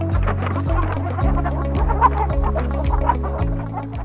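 Chickens on a modern farm with automatic feeding systems, clucking and squawking continuously over a loud, rhythmic mechanical hum and repeated clanking from the machinery.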